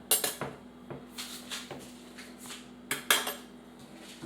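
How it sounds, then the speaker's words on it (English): A metal spoon is pulled from a cutlery drawer, rattling against other silverware and clinking dishes in a run of close, sharp knocks and jingles with a few louder bursts, no voices. "I'm going to get a spoon just so I can kind of"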